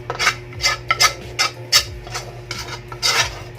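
Biko rice cake is mixed in a pot, a spoon scraping and rasping against the metal in repeated strokes at a quiet, close level.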